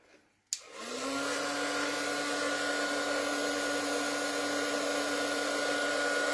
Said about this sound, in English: I'm going to make noise because I'm going to use the heat tool